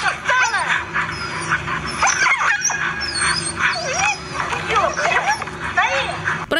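Harnessed huskies stopped near a reindeer farm yelp, whimper and howl in rapid overlapping cries while being beaten, loud and close, with a voice talking over them throughout.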